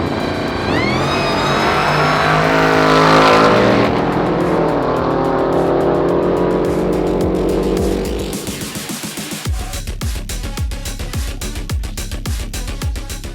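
A supercharged 1100hp HSV Clubsport R8 runs at a drag strip, its LS3 stroked to 418 cubic inches on E85. The engine screams loudly through climbing revs, the roar drops away, and sharp popping crackles follow.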